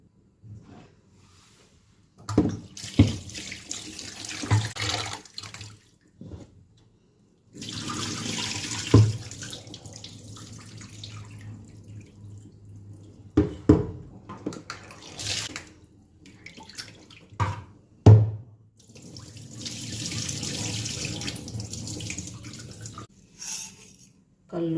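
Tap water runs and splashes over one kilogram of raw mutton being washed in a sink, in several separate bursts of running water with quiet gaps between them, close by.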